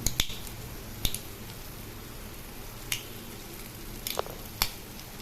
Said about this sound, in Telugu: ముక్కలు చేస్తాను నేను పీతల్ని